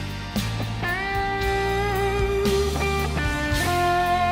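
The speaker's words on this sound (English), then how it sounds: "So now we're going to do the same solo, but with bends." Sustained electric guitar solo in a lesson, with string bends sliding pitch on chord tones; melodic lines ring loudly over a steady low accompaniment, no talking.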